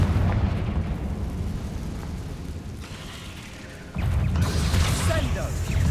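Confringo blasting spell going off in the Hogwarts Legacy video game: a dense roaring burst of fiery noise that swells again near the end, loud and sustained over a rumbling game soundtrack.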